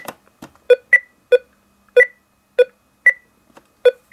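Beeps sound from the APF TV Fun console's built-in speaker: a string of short, sharp electronic tones at an uneven rhythm, loud and close with silence between them.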